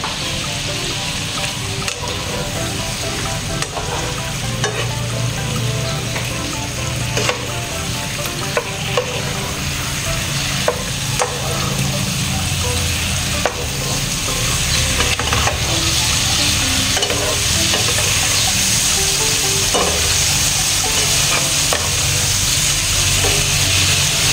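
Chicken adobo stirred and frying in a pan, a steady loud sizzle with scraping utensil strokes throughout, no voices.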